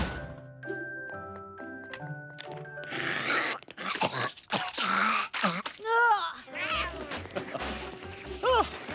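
A cat meows and yowls several times, loud and close, with background music and some vocal noises mixed in.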